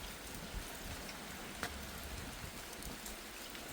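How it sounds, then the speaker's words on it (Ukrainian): Steady rain falls in a soft, even patter, fairly faint, with a few louder drops standing out. "І дощ лє."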